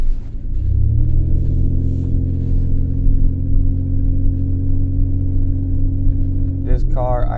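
A Ford Escape with a misfire and a damaged exhaust holds a loud, steady, deep rumbling drone close to the microphone for several seconds, then the sound cuts off near the end as a voice begins speaking.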